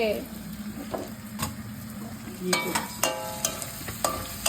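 Tomatoes and spices cooking in a pan give a soft sizzle, then a run of ringing metallic clinks and scrapes from stirring grows busier toward the end, heard up close.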